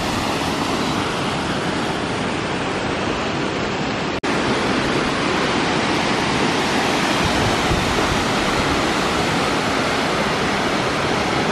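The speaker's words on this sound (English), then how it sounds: "Waterfall." A waterfall in Serra da Estrela, Portugal, tumbling down a steep valley, gives a loud, steady, close roar of rushing water that runs unbroken apart from one sharp click partway through. No voices are heard.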